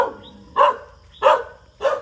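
A dog barks outside a house at night: three loud, close barks evenly spaced about two-thirds of a second apart, each a sharp single woof with short quiet gaps between.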